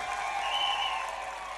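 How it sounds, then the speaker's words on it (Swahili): A crowd claps for the chairperson at a UDA women's congress at the Bomas of Kenya in Nairobi, a brief, even wash of applause filling the hall. "mimi ningependa mumpigie makofi"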